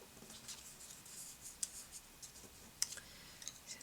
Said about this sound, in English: Trusty old label punch. Label punch is EK Success